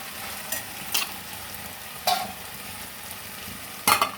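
Cluster beans mixed into soft cooked tomatoes in a pan, a low steady sizzle broken by four sharp spatula scrapes and taps, close by.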